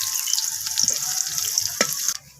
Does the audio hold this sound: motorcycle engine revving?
no